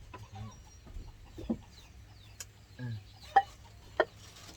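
Chickens clucking around a rural home, a few short, separate clucks and calls spaced over several seconds against a quiet, low background rumble.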